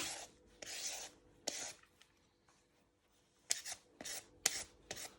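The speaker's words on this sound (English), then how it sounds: "you just want to finish off peeling your carrots, getting all the skin off" Carrots being peeled by hand, giving repeated rasping scrapes in uneven bursts, several quick strokes close by with short pauses between, and no talking.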